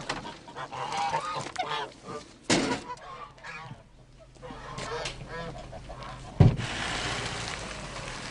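Geese honk in a noisy outdoor setting at a medieval fair with dog herding in Colombier-Fontaine, the calls mixed with crowd murmur and scattered bursts of sound, including a sharp loud knock near the end.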